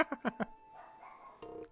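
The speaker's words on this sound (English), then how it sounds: "Crazy doggy." A dog barks four times in a quick series close by, short sharp yips, followed by quieter indoor noise and a brief whine or squeak near the end.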